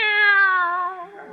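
A cat named Minerva gives a single drawn-out meow in a radio play, close and loud, its pitch sliding gently downward as it fades over about a second.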